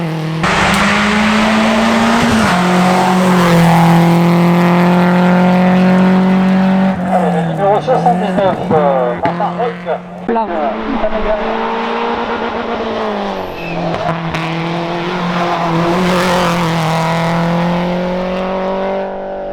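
A race car climbs the Moulineaux hill climb course in 2023, its engine loud and close, revving through rising and falling gear changes with tire noise, while a voice talks over it.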